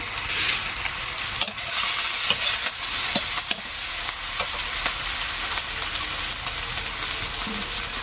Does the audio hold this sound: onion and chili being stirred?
yes